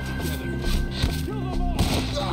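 Gunfire at enemies perched in trees during a Red Dead Redemption 2 shootout, several muffled shots thumping under loud, agitated speech and background game noise.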